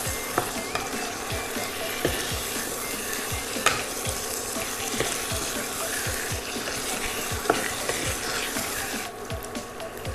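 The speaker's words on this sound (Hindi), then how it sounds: "अब हमें चिकन को तेज़ आंच पे 8-10 मिनट तक भूनना है।" Marinated chicken fries on high flame for a chicken ghee roast, a continuous loud sizzle with a rhythmic series of spatula scrapes and knocks as it is stirred.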